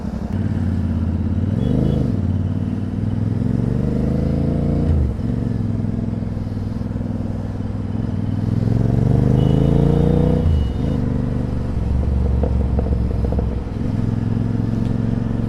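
Group of motorcycles setting off on a ride, engines rumbling close by with repeated rises and falls in revs as bikes pull away and pass.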